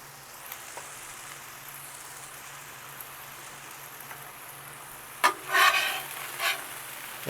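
Seasoned food fries on a griddle with a constant soft sizzle like light rain, broken near the end by a few sharper scraping clinks, with no voices.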